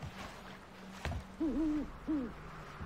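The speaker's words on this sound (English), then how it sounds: "I can hear the owl." An owl hoots twice in the video game Never Alone, two short, clear, wavering calls over a quiet ambient background, with a soft thump just before them.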